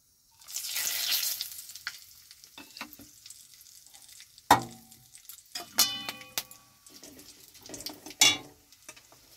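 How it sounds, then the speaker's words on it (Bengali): Bay leaves and whole garam masala drop into hot oil, with an opening burst of sizzle followed by quieter crackling and several sharp clinks and taps of a spoon against the pan. "তেলটা গরম হয়ে গেছে, এবারে দিয়ে দেবো তেজপাতা আর গোটা গরম মশলা।"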